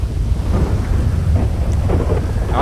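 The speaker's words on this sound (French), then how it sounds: "Alors attends, il y a l'orage." Thunderstorm in the video game GTA Online, with a deep rolling rumble of thunder under steady rain hiss, continuous and loud for the whole stretch with no talk.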